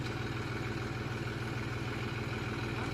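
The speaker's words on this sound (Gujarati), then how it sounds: "બીજું ટ્રેક્ટર આવ્યું એ જોન ડિયર હે એ હલવાણું હે" A John Deere tractor runs on farmland, its engine a steady, even, throbbing rumble that holds at constant loudness throughout, with no talking.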